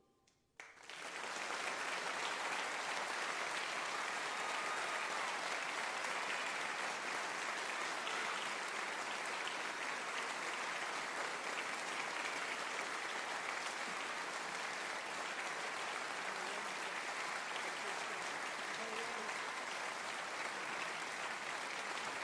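A studio audience at a live music show applauds steadily, a dense, even wash of clapping that starts abruptly and holds without cheering for over twenty seconds.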